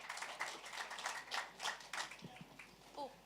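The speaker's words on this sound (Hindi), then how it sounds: "बहुत सारे तालियां हो जाए सर के लिए" Audience members at a film trailer launch clap for a lyricist, a quiet, patchy run of applause with rhythmic hand claps, and a voice briefly speaking near the end.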